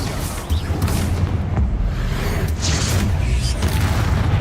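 Confringo spell explosion in the Hogwarts Legacy video game, a loud booming blast with rumbling low end and whooshing bursts layered over continuous dense game noise.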